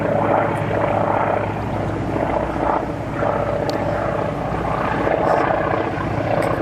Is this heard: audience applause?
no